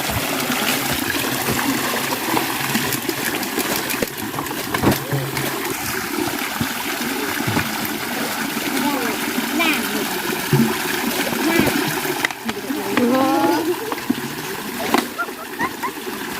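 Drinking water being scooped from a stream in the countryside, with repeated splashes and trickles of water close by, while people talk over the water throughout.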